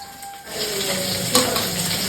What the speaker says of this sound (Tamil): இப்போ நம்ம வெங்காயம், பச்சை மிளகாய் சேர்த்துக்கலாம்.